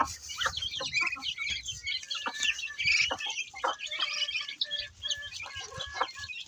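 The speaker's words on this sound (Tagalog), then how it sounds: "Yung mga sisiw ko" Chickens and chicks clucking and cheeping around a backyard coop among pet chickens and ducks, busy overlapping calls with high peeps from the young birds, close by with a soft low rumble underneath.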